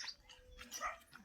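A village dog in Pauri Garhwal barks in a few short, faint bursts, with a high, thin outdoor background behind it.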